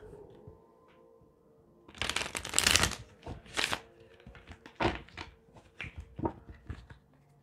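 Tarot cards riffle and flutter close by in several bursts of shuffling, a long papery rush followed by shorter slaps and taps, with no talking.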